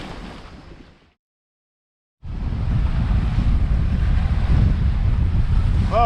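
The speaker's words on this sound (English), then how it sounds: "Well, we're getting some wind now." Wind gusting over a sailing boat at sea off Bali, with a steady roar of wind buffeting the microphone and rushing water along the hull, loud and continuous after a short moment of near-silence.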